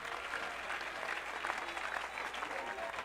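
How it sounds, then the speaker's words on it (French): A church congregation applauding the sisters, a dense steady burst of many hands clapping together, moderately distant and sustained throughout with faint crowd voices mixed in. "Acclamez les sœurs."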